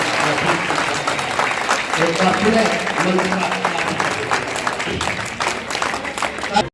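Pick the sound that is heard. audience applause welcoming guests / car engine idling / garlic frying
audience applause welcoming guests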